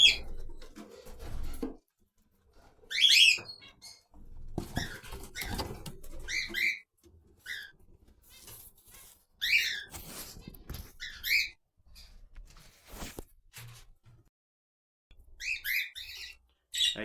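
Budgies in a mixed-bird breeding colony give short, scattered chirps and chatter, faint to moderate, separated by quiet gaps against low background rustling.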